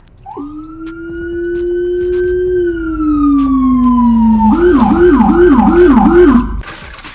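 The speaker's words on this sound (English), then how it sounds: "It's a Whelan Howler speaker that creates a very low bass-like sound." A Whelen Howler low-frequency police siren speaker on a sheriff SUV wails loud and deep in a long slow rise and fall, then switches to a rapid repeating yelp before cutting off.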